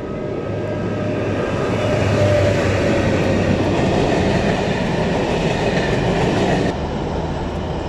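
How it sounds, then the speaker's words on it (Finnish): A heavy freight train rumbles past close by on the Karelia line in Finland, a steady loud roar of rolling wagons and wheel noise that holds for several seconds before easing slightly. "Tää oli nimittäin viimeinen juna, mikä menee Karjalan radan kautta Konttiunaalle."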